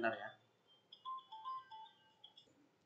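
A phone ringing with a short melodic electronic tone in a few rising and falling notes, faint and near, right after a brief burst of a voice.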